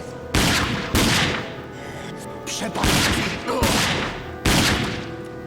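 Pistol shots ring out in the shooter game RAGE: five loud, sharp reports spaced about a second apart, each with a decaying echo, over a low ambient background.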